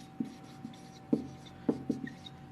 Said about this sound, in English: Let me write that for you.